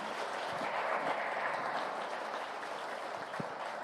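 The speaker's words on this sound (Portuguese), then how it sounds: "dê um grande aplauso a Jesus" Church congregation applauding, a steady wash of clapping that fills the whole space evenly and continuously throughout, with no voices standing out.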